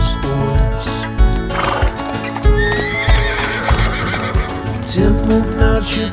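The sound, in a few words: horse neighing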